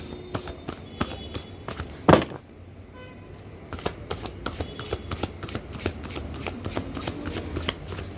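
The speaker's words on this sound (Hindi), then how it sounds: "कार्ड को अच्छी तरह मिक्स कर लेती हूँ।" Tarot cards are shuffled by hand close to the microphone, a steady run of crisp riffling flicks and soft slaps with one sharper snap partway through. Nobody talks.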